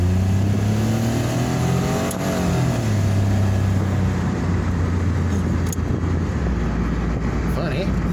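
A car engine runs close by, its low drone rising and falling as it revs, steady and loud throughout.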